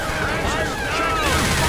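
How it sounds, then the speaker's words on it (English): Gunfire in the zombie shooter Left 4 Dead 2 during a Versus match, a continuous dense rattle of shots running through the clip with game sounds and voices mixed in. "Stop shooting me."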